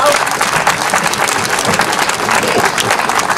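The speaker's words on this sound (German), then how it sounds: "Und am Beifall hören wir, dass die Menschen neugierig sind." Audience applause at an outdoor vigil in Karlsruhe, a dense, steady clapping from a crowd that holds at a constant level throughout, with no speech over it.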